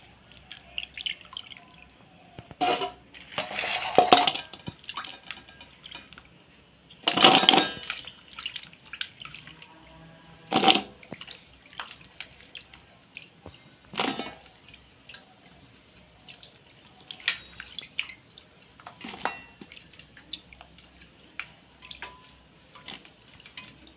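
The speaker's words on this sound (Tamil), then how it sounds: "இது எல்லாத்தையும் இப்போ நல்லா கழுவிடலாம்" Mangoes being washed and scrubbed by hand in water for pickle-making, with soft splashes and drips that swell into a few louder sloshing bursts, close by and without talk.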